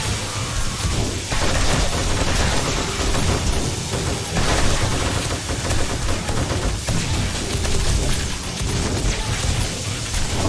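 Loud, sustained gunfire during a blood moon horde in 7 Days to Die Alpha 21, dense bursts and shots rolling continuously with heavy rumbling under them, no talk.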